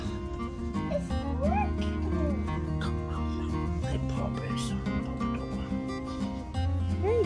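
A Great Dane puppy whimpers and yips in high, wavering cries over a musical background, repeated in short bursts while a person speaks softly.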